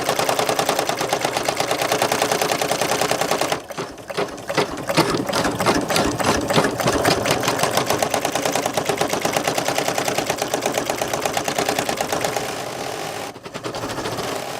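An embroidery machine stitches a tack-down pass on a leather luggage tag, a fast, steady, rhythmic mechanical chatter close by that runs almost unbroken with a couple of brief pauses, with no talking.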